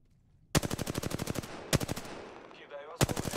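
Bursts of rapid automatic gunfire from Apex Legends rattle loud and close, three sustained volleys separated by short pauses and a reload-like mechanical whir.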